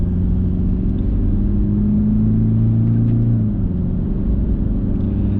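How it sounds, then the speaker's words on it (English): A Toyota Fortuner Legender's engine drones inside the cabin as the SUV takes a deep corner. The steady low rumble carries a rising, sustained engine note that climbs and then falls away midway, with no talk. "the engine gets a little vocal on the higher rev bands"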